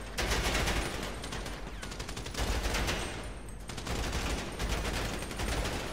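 Carbine rifle gunfire in GTA, sustained rapid automatic bursts repeating loudly and nearly without pause across the whole stretch.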